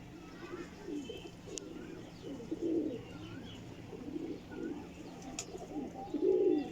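Flying-breed pigeons coo close by in soft, low, throaty bursts, repeating in a loose rhythm over a quiet background with a few faint chirps.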